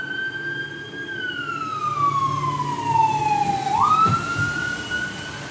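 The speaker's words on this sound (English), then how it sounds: "you hear the sirens?" A single siren wails from a distance, its pitch sliding slowly down and then jumping back up, over a low traffic rumble.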